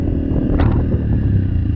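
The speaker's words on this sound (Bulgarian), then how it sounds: "За да си вдигнем мотора, трябва да използваме газта и съединителя в приятна синхронизация." A motorcycle engine revs under throttle and clutch work as the rider lifts the front wheel for a wheelie, a steady close, loud low drone with a brief rising rev near the middle.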